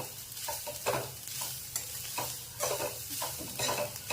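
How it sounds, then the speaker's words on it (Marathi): Modak filling of coconut with jaggery being sautéed in a pan gives a steady close sizzle broken by regular scraping stir strokes, with no voices. "थोडं चांगलं परतून घ्यायचे।"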